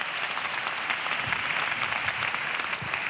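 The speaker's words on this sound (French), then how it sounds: "Si vous avez envie de l'applaudir, alors surtout lâchez-vous." An audience at a Christian gathering on joy applauds continuously, a dense and steady wash of many hands clapping with no voices over it.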